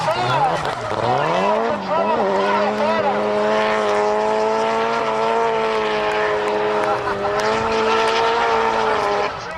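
A Nissan Sylvia D1 drift car spins at a D1GP drift event, engine screaming loud and close with steady rising harmonics, tyres squealing through most of the moment while a commentator talks over it.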